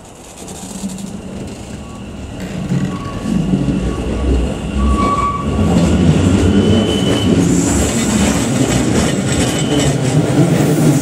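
A Hanshin 1000 series limited express train bound for Osaka-Umeda pulls out of Mikage station on the Hanshin Main Line, its loud rumble and motor whine building steadily with wheel squeal and clatter as it gathers speed.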